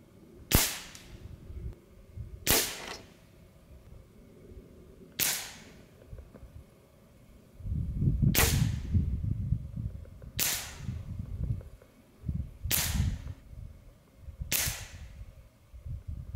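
Hatsan Galatian Tactical semi-automatic air rifle firing pellets at a 35-yard range: seven sharp, loud cracks spaced roughly two seconds apart, with low rumbling handling noise between the later shots.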